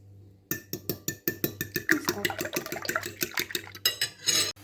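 A fork whisks eggs briskly in a bowl, a fast steady series of clinking taps against the sides, close and continuous.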